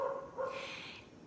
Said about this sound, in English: You can hear my dog barking outside right now.